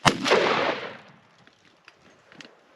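A single sharp 28 gauge shotgun blast fired at a bufflehead duck during a Texas duck hunt, loud and close, with a booming roll-off that fades over about a second into quiet outdoor ambience and faint scattered noises.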